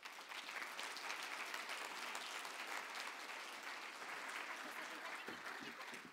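An audience applauds a speaker after a short talk, a dense, sustained burst of many hands clapping that holds steady for several seconds before thinning slightly near the end.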